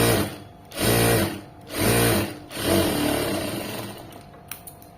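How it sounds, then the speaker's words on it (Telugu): Sewing machine stitching piping onto a lining, running in three loud bursts separated by brief pauses, then a longer softer run that fades into light clicks, close and clear with no talk. "ఇప్పుడు లైనింగ్ మీద కుట్టు పడేటట్టు వేసుకోండి."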